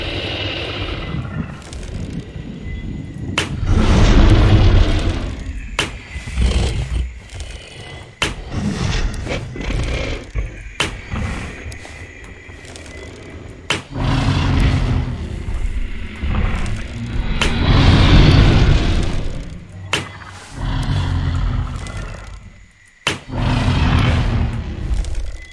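Gunshots fired at a T. rex in the dinosaur-hunting game theHunter Primal ring out as a series of sharp, widely spaced cracks over a heavy, rumbling background.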